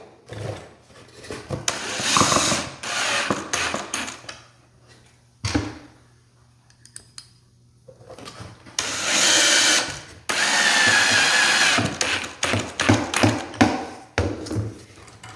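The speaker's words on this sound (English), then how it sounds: "Now we will run our screws into the handle." A power drill drives screws into the wooden handle of a shop-built taper and jointer jig for a table saw, several loud bursts of whirring separated by pauses and handling clatter.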